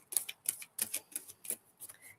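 Tarot cards shuffled by hand in quick irregular bursts, crisp papery flicks and taps heard close up in a quiet room.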